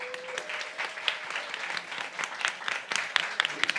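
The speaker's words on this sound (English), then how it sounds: "Please give them an applause." An audience at a corporate business update event applauds, a dense, steady wash of many hands clapping throughout, moderately loud and close, with no talk over it.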